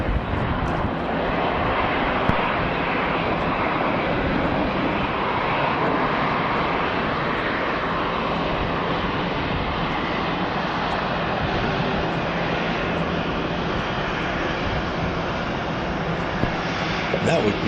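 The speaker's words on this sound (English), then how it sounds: "That would be Delta Airlines flight 1601 that arrived from Jacksonville." A Delta Airlines airliner arriving at Atlanta airport fills the scene with a continuous, loud jet engine roar, steady and broad throughout.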